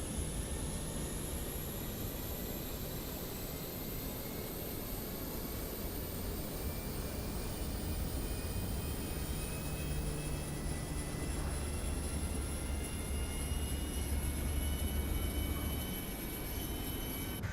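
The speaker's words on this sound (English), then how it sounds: "start the APU. We'll press the APU power fuel button." A CRJ-900 auxiliary power unit starts up in Microsoft Flight Simulator 2024, giving a steady, broadband turbine roar with a high whine that slowly climbs in pitch and holds loud throughout.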